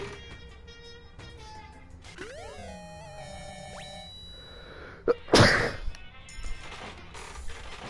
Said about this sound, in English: Because I sneezed.